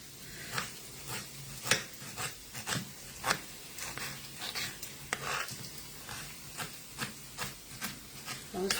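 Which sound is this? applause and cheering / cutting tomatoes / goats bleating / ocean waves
cutting tomatoes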